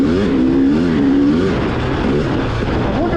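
2021 KTM 300 XCW TPI two-stroke dirt bike engine revving on a winter sand ride, close and loud, with rising and falling rev sweeps early on, then a mellower steady drone.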